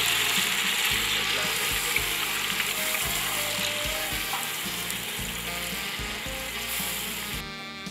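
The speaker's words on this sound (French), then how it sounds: "Jetez les oignons dans cette huile chaude." Onions sizzling and frying in hot refined oil in a cooking pot for a spicy fish dish, a steady close crackle with scattered pops and faint scraping of a spoon stirring.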